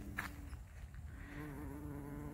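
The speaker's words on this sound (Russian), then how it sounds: "Пчела" A bee buzzes close by in a vegetable garden with a steady droning hum that wavers slightly in pitch, heard against a quiet outdoor background.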